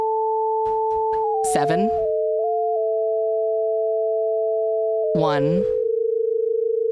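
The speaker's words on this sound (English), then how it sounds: "you're just getting a copy of that sine wave 1 whole octave up" Two steady pure sine tones sound together, one pitched an octave above the other, holding level throughout while a voice briefly talks over them twice.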